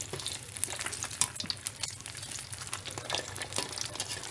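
Fish frying in oil in a pan, the fish then flipped, makes a close, steady crackling sizzle with sharp popping spatters throughout.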